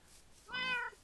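A single drawn-out cat meow in a video game, clear and close, lasting under half a second against a quiet background.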